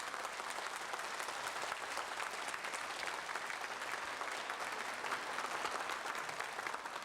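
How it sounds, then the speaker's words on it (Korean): Sustained applause from a studio audience at a live Korean broadcast special on reuniting separated families, welcoming a visiting Tunisian parliament speaker; dense, steady clapping throughout with no talk. "저 반가운 인사를 좀 박수로 나누셔야 되겠는데요"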